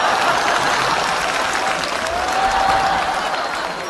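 A studio audience at a Chinese comedy sketch show breaks into sustained applause, loud and dense, rolling on evenly for several seconds without any voices on top.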